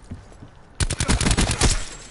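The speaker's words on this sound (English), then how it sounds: "He's trying to shoot me." Rapid automatic gunfire in the Black Ops 4 multiplayer video game, a loud close burst of shots starting after a brief quiet lead-in and continuing to the end.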